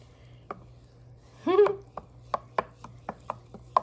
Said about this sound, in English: So I get it all wet. And stir it all up.